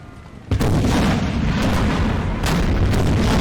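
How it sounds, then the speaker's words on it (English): Cannon artillery volleys in Napoleon Total War, a dense rumbling battle din with repeated booming shots over a continuous low roar, loud and sustained, no voices. "Man, did you hear the guns shooting?"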